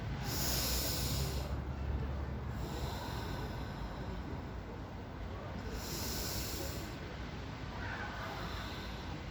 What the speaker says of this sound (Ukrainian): Ви дихаєте так само на повні груди, починаючи від животу до легень, да, на повні легені.